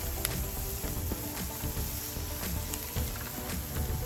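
Frozen sliced meat sizzles in a hot pan with sauteed peppers and onions, a dense, steady crackling hiss with faint pops, close and continuous without talk.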